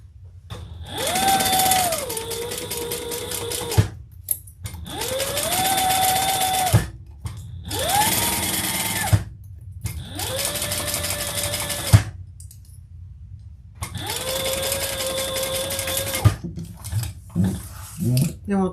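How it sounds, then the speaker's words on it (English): A sewing machine stitches a tote bag seam in several loud bursts, each a few seconds long, with a whirring motor pitch that rises and falls, separated by short pauses. "sew that at the seam allowance in the pattern"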